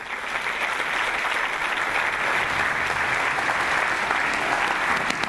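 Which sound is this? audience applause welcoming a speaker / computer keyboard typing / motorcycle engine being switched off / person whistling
audience applause welcoming a speaker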